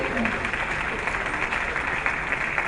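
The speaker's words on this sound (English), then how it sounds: "can I ask for another round of applause for this young man?" Applause for a young presenter fills a Law Week event at a dome venue, a steady broadband clatter of many hands sustained throughout at an even, fairly loud level.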